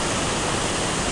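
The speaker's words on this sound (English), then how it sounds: "And you hear the water roaring in the background, no doubt." Trafalgar Falls on Dominica roars as a steady, dense wash of falling water, loud and unbroken throughout with no pauses or voices.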